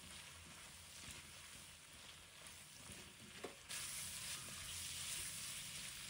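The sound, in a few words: stir-frying sausage and potato slices sizzling in a wok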